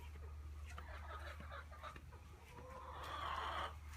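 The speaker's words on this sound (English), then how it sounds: "I don't eat my chickens. These are my pets here." Chickens cluck softly nearby over a low steady hum, with a louder, higher call near the end.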